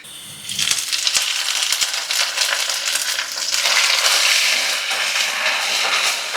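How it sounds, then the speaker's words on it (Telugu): Tempering goes into hot oil in a pan for a fish fry, bursting into a sudden loud sizzle that swells and keeps hissing, punctuated by a few small clicks. "తాలింపు వేసుకుందాం."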